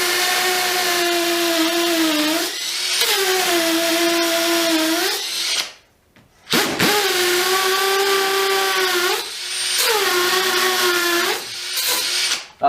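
A Makita DTP141 impact driver works into a damp masonry wall in three long bursts, loud and close, its rapid rattling hammer with a whining motor tone, separated by brief pauses.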